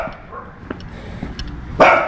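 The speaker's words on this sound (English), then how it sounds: "Every now and then you jump because the dogs attack you. The dogs behind the fence." Dogs behind a fence bark at a passer-by on a walk in Mexico: one loud, close bark bursts out near the end, after faint street sounds and footsteps.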